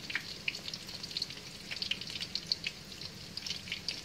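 Korean fried chicken pieces frying in hot oil on a first cooking, a steady crackling sizzle with dense bursts of small pops, close and moderately quiet, no voices.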